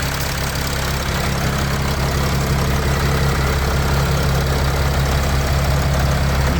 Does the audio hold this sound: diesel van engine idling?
yes